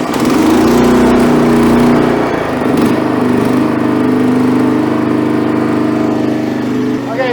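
A 21-year-old Honda HS928 snow blower with a 9 HP engine runs steadily at close range, a loud, even mechanical drone that holds throughout with a slight dip partway.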